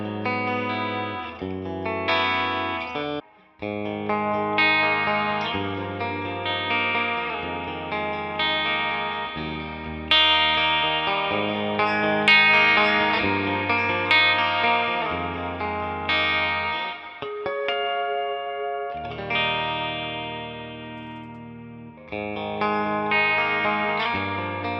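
A Fender Stratocaster electric guitar played through its bridge pickup with effects, bright sustained notes and chords ringing steadily over about twenty-five seconds with no talking.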